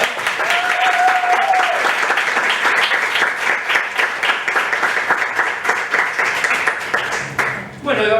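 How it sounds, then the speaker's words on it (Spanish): Dense, steady applause from a conference audience at a 2023 academic theatre event, loud and sustained for about eight seconds, with a brief whistle-like voice early on, before tapering off at the end. "así que por favor un aplauso para ella."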